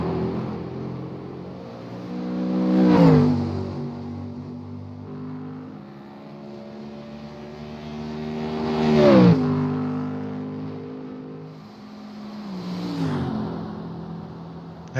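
A race car engine at the Nürburgring in the iRacing video game drones steadily and swells into three rising revs through gear changes, loud and continuous with no talking.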